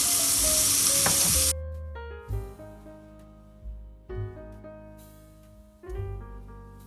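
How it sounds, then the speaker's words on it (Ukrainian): A loud burst of sizzling as pork belly hits a hot pot, then it cuts to quieter clinks and scraping in the pot. "В каструлю викладаю підчеревину та добре підсмажую."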